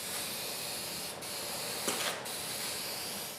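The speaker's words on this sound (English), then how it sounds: "There is a bit of a trick to using these spray cans." An aerosol spray can sprays primer onto bare metal car bodywork in a garage, giving a steady close broadband hiss with two brief breaks where the nozzle is released and pressed again, no talking.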